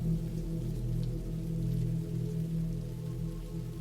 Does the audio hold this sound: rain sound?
yes